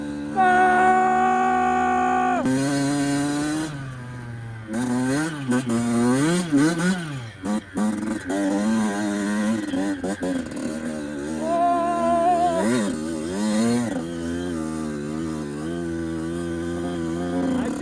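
A tractor engine strains while stuck in snow, revving loud and close in repeated rising and falling bursts, with sharp pitch swings as the throttle is worked over a steady idle.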